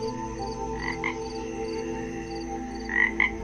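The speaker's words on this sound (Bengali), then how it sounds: "বিলের দিক থেকে ভেসে আসছে ব্যাঙের ডাক" Frogs croak from a marsh at night after rain, with a few distant croaks over a steady, faint, droning night background and a brief louder pair of croaks near the end; no one speaks.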